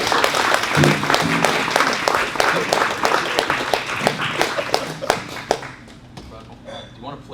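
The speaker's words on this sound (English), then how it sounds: "Let's go around applause for Grant" An audience applauds at a jazz tribute to guitarist Grant Green, many hands clapping with distinct sharp claps standing out, fading toward the end as a voice speaks.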